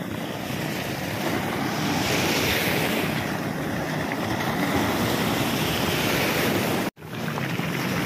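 Strong ocean waves surge and break continuously, loud and close, with heavy wind rumble buffeting the microphone and a brief dropout near the end.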